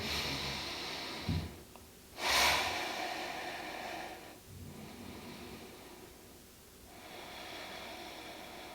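Slow yoga breathing during a gentle stretch flow, with a few long, soft inhales and exhales close to the mic and a sharper breath near the start, over faint background hiss.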